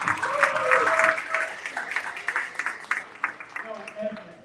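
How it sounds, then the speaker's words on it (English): An audience at a self-improvement speaking event gives a round of applause, moderate clapping that rises and thins out into scattered claps, with a voice speaking over it. "Give her another round of applause."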